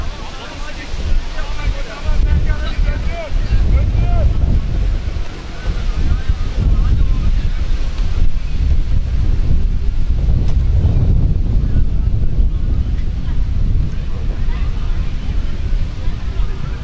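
Strong wind blows across an outdoor football pitch, a loud continuous rumbling buffet on the microphone with gusty swells, while voices shout faintly in the background.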